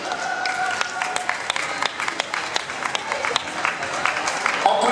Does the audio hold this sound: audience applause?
yes